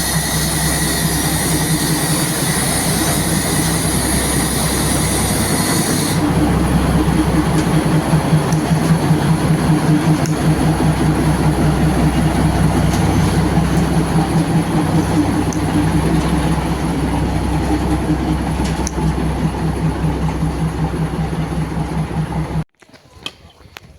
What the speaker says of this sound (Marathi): आता जस्ट टॉय ट्रेन गेली